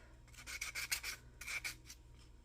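Sanding a small craft piece by hand with a well-worn sander, quick back-and-forth rasping strokes in two short bursts, close and fairly quiet over a low hum.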